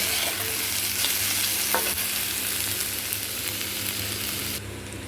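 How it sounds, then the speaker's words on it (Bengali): Sliced potatoes and onions fry with turmeric in a pan, giving a loud, steady sizzle and crackle with occasional stirring scrapes. "আলু আর পেঁয়াজ একসঙ্গে ভাজা হবে"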